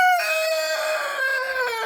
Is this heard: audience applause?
no